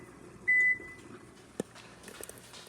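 A single electronic timer beep sounds clearly for a moment, followed by a brief thump and faint clinks in a quiet room.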